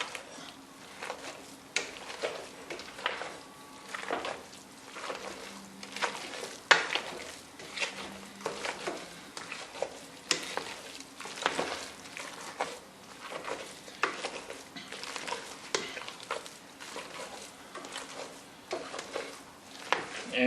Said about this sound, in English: So I'm just gonna mash it up.